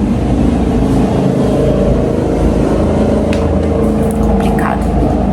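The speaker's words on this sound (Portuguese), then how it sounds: "Ó a moto passando aí, ó." A motorcycle passes by outdoors, its engine a steady loud drone that holds throughout with no voices over it.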